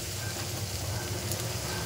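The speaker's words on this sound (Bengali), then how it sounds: "তো এখানে আলু ভাজা করছি" Potatoes fry in a pan on a home kitchen stove, a steady close sizzle with faint stirring scrapes and no talking.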